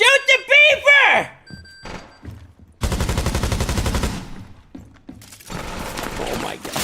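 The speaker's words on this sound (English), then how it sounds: "Shoot the beaver!" Gunfire in the Rainbow Six Siege video game: loud rapid automatic bursts, one sustained and a later one, with thumps and impacts, while a voice talks excitedly at the start.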